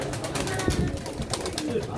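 Pigeons coo softly in the background of a crowded pigeon auction in Çorum, mixed with murmuring voices and general room noise.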